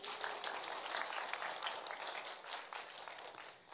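Schoolchildren in a classroom burst into lively applause for a classmate, a dense, fairly soft wash of many hands clapping steadily before fading at the end.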